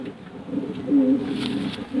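Red-eyed purebred baby pigeon in a loft giving a soft, low coo close by, with a short rise in the middle of the burst and no talk over it.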